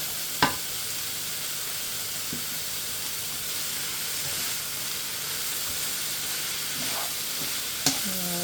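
Chicken and vegetable stir-fry with broccoli sizzling in a pan, a steady close frying hiss throughout with a few faint clicks of a utensil against the pan.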